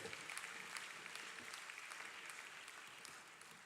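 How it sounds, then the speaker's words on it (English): Applause for graduates at a business college graduation ceremony, quiet and somewhat distant, a continuous patter of many hands with scattered sharper claps. "Let's put our hands together and give them too a round of applause."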